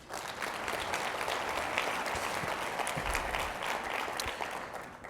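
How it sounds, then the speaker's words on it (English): Warm, even applause from attendees at a small business finance forum's opening plenary, many hands clapping steadily for about five seconds before easing off slightly at the end, without any talking. "Let's give a round of applause."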